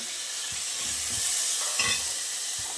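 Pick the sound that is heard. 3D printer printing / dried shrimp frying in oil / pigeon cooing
dried shrimp frying in oil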